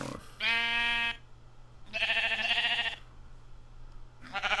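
Minecraft sheep bleat clearly, with two long wavering calls and the start of a third, close and distinct over a low steady hum.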